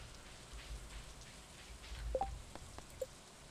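Rain falling in the video game Stardew Valley, a soft steady patter and hiss at low volume, with a few faint chimes and small game sound effects popping up briefly over it.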